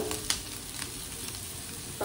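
Mixed vegetables frying in butter in a pan, a soft steady sizzle with faint crackles and one light stir clink, quiet and close.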